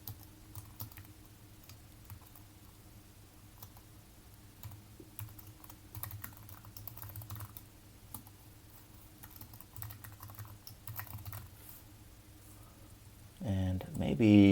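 Typing Kotlin code on a computer keyboard, a steady patter of soft clicks near and quiet over a low hum, ending with a brief louder tonal burst.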